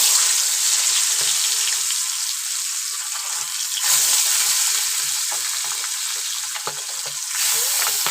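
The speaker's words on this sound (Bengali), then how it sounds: "তো আমি 3 পিস করে মাছ ভাজছি।" Pieces of pabda fish fry in hot oil in a kadai over a high gas flame, a steady, loud, close sizzle and crackle that fills the whole stretch without a break.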